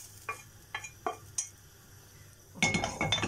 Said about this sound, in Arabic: هنفضيه بقى في طبق كده عشان نكمل الوصفه بتاعتنا اهو